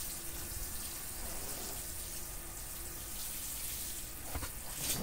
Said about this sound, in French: On met la poire d'arrosage. On arrose notre petit semis.